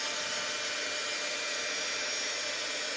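A heat tool melting embossing powder gives a steady, loud blowing whir that runs continuously, a broad hiss filling the clip with no pauses and no voices.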